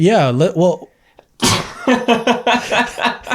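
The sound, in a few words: a sneeze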